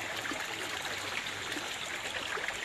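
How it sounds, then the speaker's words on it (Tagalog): A streambank stream flows steadily nearby, a continuous broadband babble and trickle of water with no talk over it. "ito yung sapa"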